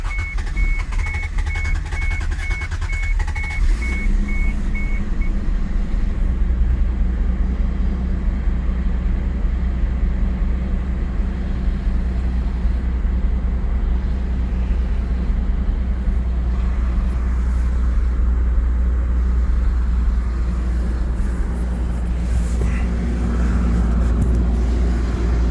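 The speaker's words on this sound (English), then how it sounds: "push the clutch in, neutral, and it's fired up" A manual car that has sat for a while fires up in a shop, with a whine and warning chime during cranking, then a loud steady idle rumble that carries on alone.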